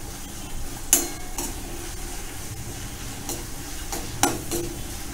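Chopped onion sautés in a pan for an oats Manchurian, giving a soft steady sizzle under a few sharp clicks and scrapes of a spatula stirring against the metal.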